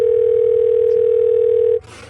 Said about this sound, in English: we were able to schedule a phone call. And that is going to happen right now.